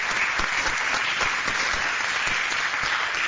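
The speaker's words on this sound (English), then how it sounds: "Je vous demande de les applaudir." Conference attendees at a European space conference plenary session applaud in a dense, continuous wash of clapping that holds at an even, fairly loud level throughout.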